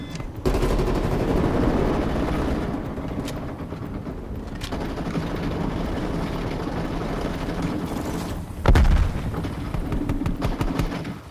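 Call of Duty Black Ops Cold War gunfire forms a sustained, loud wall of automatic fire and battle noise. A few sharper cracks stand out, and a heavier burst lands near the end.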